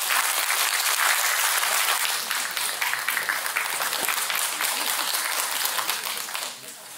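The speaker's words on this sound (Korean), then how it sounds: "힘찬 박수 부탁드리겠습니다" A crowd at a Korean redevelopment association general meeting applauds loudly and steadily as the chairman is brought to the podium, the dense clapping easing off toward the end.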